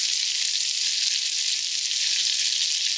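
A butterburger patty made to an original 1957 recipe sizzles loudly and evenly in the pan just after being flipped, a close, constant crackling hiss with no talk.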